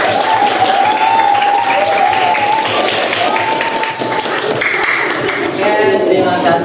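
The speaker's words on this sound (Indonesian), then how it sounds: "Mari sama-sama kita tepuk tangan buat diri kita sendiri." A group of students in a coding class clapping together, loud, close, steady applause with crowd noise and some voices mixed in throughout.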